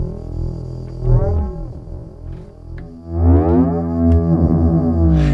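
Modular synth sound passed through a XAOC Koszalin Eurorack stereo frequency shifter gives sweeping, gliding metallic tones that rise and fall in tangled chirps over a low rumbling drone, loud and without speech.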